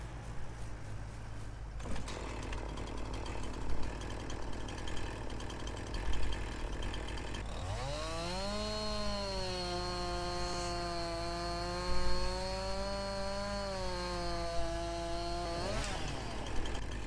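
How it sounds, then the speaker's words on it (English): A chainsaw in Farming Simulator 19 idles with a rough mechanical clatter, then revs up into a loud, sustained whine as it cuts through a tree, holding steady before dropping off at the end. "so let me go cut this last tree."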